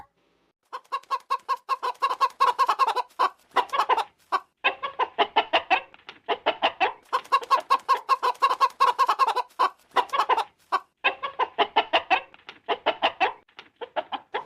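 A flock of chickens clucking busily as an old woman feeds them, rapid rhythmic bursts of close, loud clucks repeating almost continuously with only short pauses.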